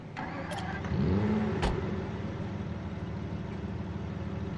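A unique car in Saints Row gives a brief engine rev that rises and falls near the start, then settles into a low, steady idle hum, with no speech over it.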